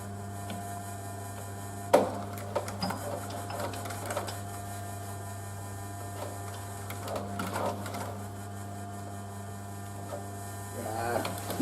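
A sewing machine stitching canvas and leather hums steadily with a mechanical whir, interrupted by a few sharp clicks and knocks as it fails to pick up the thread.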